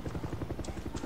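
A helicopter in the video game Far Cry 6, with rapid, rhythmic rotor thumping that pulses steadily over a low engine drone, fairly close and unbroken.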